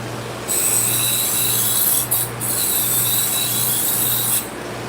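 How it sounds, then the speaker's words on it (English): A serrated bread knife is deburred during sharpening at a knife and shear sharpening shop. A steady machine hum runs throughout, under a close, continuous abrasive rasp that breaks off briefly in the middle and stops near the end, with no talk. "it does a real good job of taking the burr off when I do the serrated knives"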